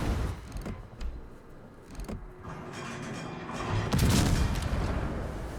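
Naval guns fire in a warship video game, with several sharp booming shots and mechanical clanks building to a heavier rumbling salvo near the end, moderately loud, no talk.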